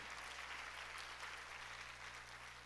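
Congregation clapping in a church sermon, a faint continuous patter of many hands heard at a distance, steady throughout with a low hum beneath.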